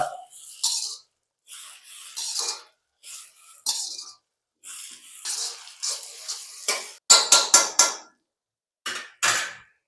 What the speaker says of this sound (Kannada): ಚೆನ್ನಾಗಿ ಫ್ರೈ ಮಾಡ್ಕೊಳ್ಳೋಣ ಕ್ಯಾಪ್ಸಿಕಮ್ನ ಕೂಡ